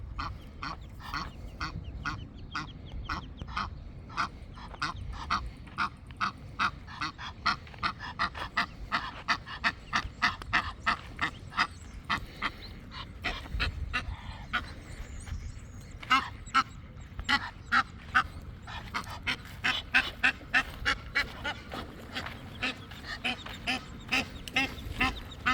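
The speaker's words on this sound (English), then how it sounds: "Look at these baby geese." Geese with goslings honking and calling near water at night, dense repeated honks building into a loud, rapid chorus close by, with no talk.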